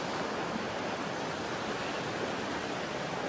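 Loud riverside water rushes in a steady, dense wash of broadband noise with no breaks, close to the listener and with no voices over it.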